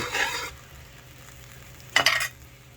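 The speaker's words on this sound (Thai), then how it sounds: "เราตั้งกะทินะครับผัดกะทิ" Coconut milk stirred and sizzling in a hot pan for a Thai beef panang curry, with two short bursts of scraping stir-fry sizzle separated by a quieter stretch of low kitchen background.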